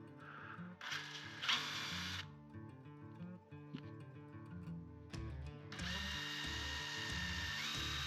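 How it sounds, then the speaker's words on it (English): A drill bit bores into a wooden carving piece in two harsh, grinding bursts, one short and one sustained, over steady tonal background music. "Think that wasn't a very good job drilling. That drill bit likes to walk."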